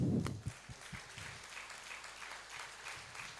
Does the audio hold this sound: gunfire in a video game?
no